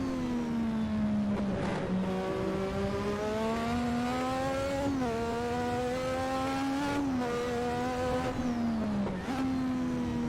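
A 1986 Formula 1 car at Brands Hatch in Assetto Corsa wails steadily at high revs, with several sharp downshift blips dropping the pitch before it climbs again, loud and continuous with no talking.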